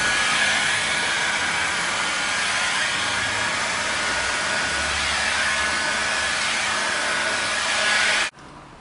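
A heat gun blows hot air onto 3M vinyl wrap film on a car, a loud, steady roaring whoosh that holds evenly for several seconds, then cuts off abruptly near the end.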